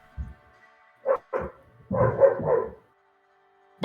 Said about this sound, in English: bark, bark, bark. It barks at you.